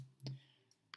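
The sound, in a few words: computer mouse click on an icon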